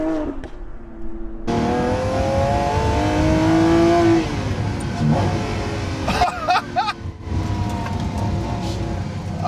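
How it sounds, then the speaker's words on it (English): A Lamborghini Sian V12 hybrid engine revs hard with a rising, harmonic drone, then drops through quick blips and crackles as it downshifts, loud and close. "That's the greatest downshift I've ever heard."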